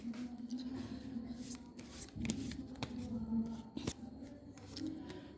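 Tarot cards being shuffled by hand, soft papery riffles and flicks with a few sharper card snaps, close and fairly quiet over a low background hum.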